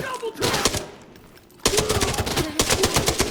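Machine gun fire in Arena Breakout: Infinite comes in loud, rapid rhythmic bursts separated by a brief lull, close and punchy, while a player talks over the shooting.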